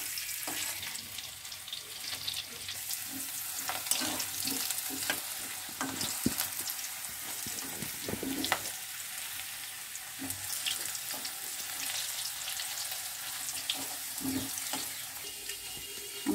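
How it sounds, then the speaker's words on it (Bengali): Potatoes fry in a pan, a steady close sizzle broken by frequent scraping and clacking stirs throughout, with no talking. "আমার আলু ভাজাটা হয়ে উঠছে,"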